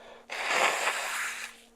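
A single forceful nose blow into a tissue, a breathy, honking burst lasting just over a second, close and fairly loud.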